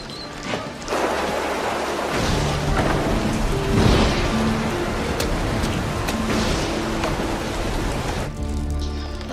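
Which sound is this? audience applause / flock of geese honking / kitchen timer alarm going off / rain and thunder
rain and thunder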